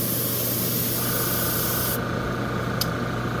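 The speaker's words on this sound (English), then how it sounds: "I'm going to turn the rag over and spray again" An airbrush sprays lacquer thinner onto a cleaning rag in a steady, loud hiss that runs without a break, shifting in tone partway through.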